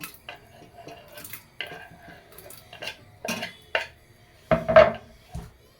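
Chopped chili and tomato go into a cooking pot and are stirred with a utensil, producing quiet, scattered clinks, scrapes and taps at an uneven pace, with one louder clatter near the end and no talking.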